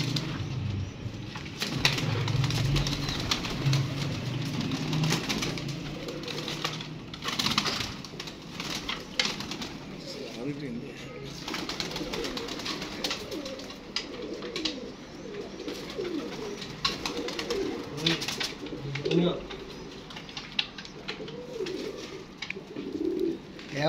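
Pigeons coo softly and repeatedly amid rustling, scraping and occasional wing flaps, close by with busy background movement.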